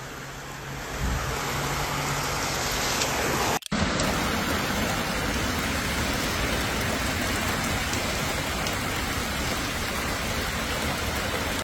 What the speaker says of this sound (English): Relentless downpours overwhelmed streets, submerged entire neighborhoods